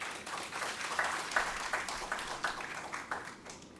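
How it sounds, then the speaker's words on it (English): An audience at a transplant coordinators training programme claps for an organ donation foundation, a faint scattered patter of hands with distinct individual claps rising and falling, fairly distant and subdued. "We can clap for them"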